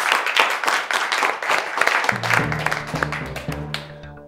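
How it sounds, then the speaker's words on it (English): A studio audience claps for a student spelling-bee champion, with scattered loud claps first, then a low musical sting rising under the fading applause. "Another round of applause"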